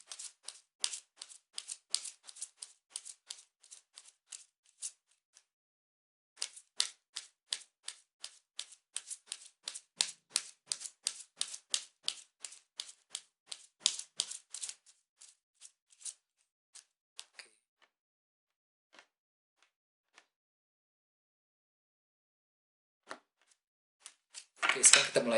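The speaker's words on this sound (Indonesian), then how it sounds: "kartunya dikocok dulu sebelum kita mulai" Tarot cards being shuffled before a reading, rapid crisp riffling clicks in bursts with a pause midway, close and fairly quiet.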